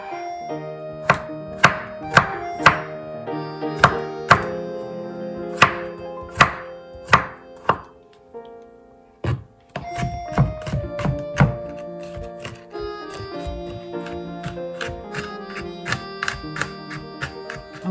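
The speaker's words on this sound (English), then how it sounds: "And for the garlic, they're asking for it to be chopped. So let's go ahead and chop it up as well." Garlic being chopped with a knife on a cutting board, heard as sharp, close knocks that start as spaced single strikes and then settle into a quicker, steady run of chops, with no speech.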